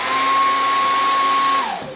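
A Rockstar hair dryer switched on and blowing steadily as a loud, close, even whine and airy rush, then cut off near the end with a falling wind-down.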